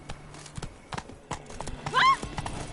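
A horse gallops in The Witcher 3: Wild Hunt, rhythmic hoof clip-clops in irregular bursts with a short whinny near the end, while a voice speaks at moments.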